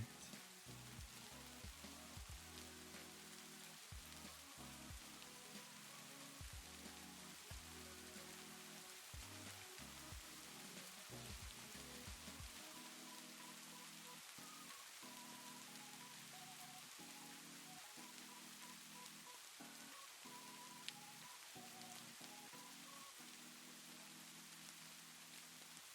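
Steady, faint rain ambience patters throughout with a soft, even hiss, while a low background hum pulses irregularly for the first half and then drops away.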